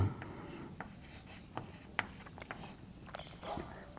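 Chalk or marker writes on a classroom board during a maths lesson on continuity and differentiability, faint scratchy strokes and occasional taps scattered across the moment, close but quiet, with no talk.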